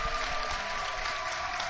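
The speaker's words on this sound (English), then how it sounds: "Give him a huge round of applause and let's show him his support" Steady, dense applause from an audience at a live robot combat show in an arena, a continuous wash of clapping with no talk over it.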